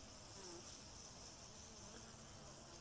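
Honey bees swarming out from under the frames of an apiary hive, a steady, dense buzzing drone that fills the whole stretch, fairly quiet with no voices over it.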